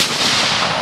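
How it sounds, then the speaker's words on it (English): A single loud shot from an old Mauser rifle at a shooting range, a close, heavy blast whose boom and echo fill the whole brief moment. "Oh boy, that was a painful shot."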